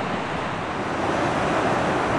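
Sea waves wash onto a beach in a steady, loud roar of surf with wind rushing across the microphone, continuous and close, without voices.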